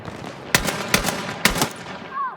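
Battlefield 6 gunfire: three sharp, loud bursts of rapid shots spaced about half a second apart over combat background noise, ending with a faint rising whine.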